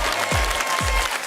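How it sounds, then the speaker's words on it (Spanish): Audience applause fills a short burst of steady clapping from a crowd at a televised popular-science talk, dense and continuous, with low thumps. "Un aplauso para ustedes."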